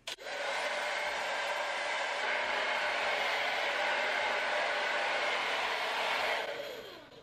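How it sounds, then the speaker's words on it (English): A hair dryer blows steadily at close range with a loud, even whoosh for several seconds, drying spray on a wig, then shuts off. "I'm just gonna dry the free spray with my blow dryer"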